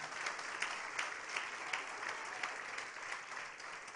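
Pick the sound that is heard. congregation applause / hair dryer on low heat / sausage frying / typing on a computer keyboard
congregation applause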